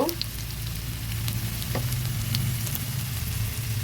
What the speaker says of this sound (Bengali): পেঁয়াজটা সুন্দর লাল লাল করে ভেজে নিয়েছি এবার দিয়ে দেব